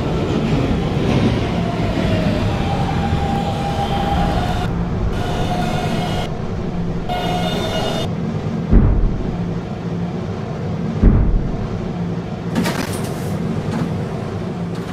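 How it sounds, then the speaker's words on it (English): An R152 subway train in the Roblox game runs steadily, with a loud continuous rumble and rolling noise, a rising motor whine, and a couple of sharp thumps as it passes over track joints. "This is a Kennedy Main Street bound 11 local train."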